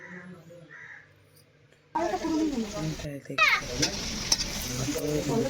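Spice masala is sautéed in a pan with a loud sizzle and stirring scrapes that start abruptly after a quiet opening, while children's voices and talk carry in the background.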